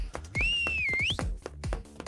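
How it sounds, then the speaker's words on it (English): Sharp finger whistle blast, a single shrill rising and bending tone lasting under a second amid clicky rhythmic background sounds. "you stick your finger in your mouth and whistle a sharp,"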